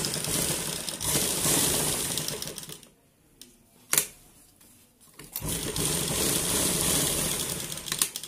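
A sewing machine stitching the neckline of a shirt, a close, loud, rapid mechanical rattle that runs steadily, stops for a brief pause with a single knock, then resumes.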